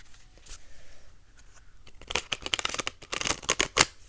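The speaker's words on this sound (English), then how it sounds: "Let's give them a quick shuffle just to kind of see." Tarot cards being shuffled: soft scattered flicks give way to a louder, dense crackling burst of riffled card edges near the end, close by with no talking.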